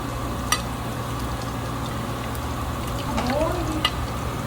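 Mutton frying in oil in a pan for biryani, a steady crackling sizzle with a few sharp pops and a brief scrape of stirring near the end.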